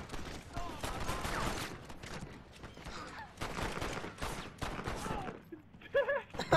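Gunfire in a Red Dead Redemption multiplayer match, a loud burst of rapid shots running through most of the moment, with excited players talking over it.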